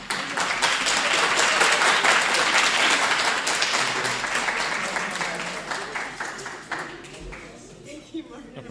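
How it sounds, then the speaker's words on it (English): A crowd at an association election meeting breaks into sustained applause, dense and lively at first, then gradually dying down to a few scattered claps near the end. "And then everyone clapped."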